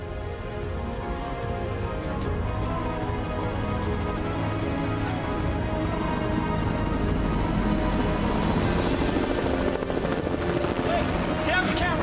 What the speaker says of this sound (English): We heard helicopters initially flying overhead